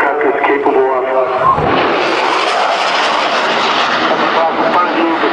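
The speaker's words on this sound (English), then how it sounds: "Keep in mind that the speed that the Super Hornet is approaching is only a fraction, only half of what the aircraft is capable of." A Super Hornet fighter jet passes low overhead with a loud, continuous roaring rush that swells and stays strong, while a voice talks over it.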